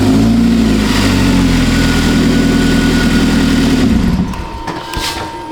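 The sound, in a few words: Hyundai car engine starting and idling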